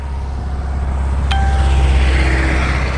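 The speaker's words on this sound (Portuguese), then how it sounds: "O barulho é grande aqui, que é passando carro aqui toda hora" Road traffic in Serra Talhada passes nearby as a continuous, loud low rumble that swells slightly midway, with a brief sharp ding-like tone partway through.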